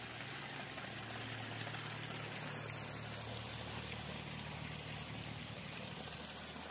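Steady broadband rush of water from a mountain river stream in a cool highland village, a constant close flowing roar with a low hum beneath, no talking.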